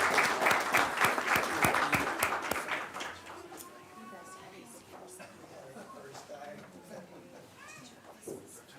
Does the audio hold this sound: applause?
yes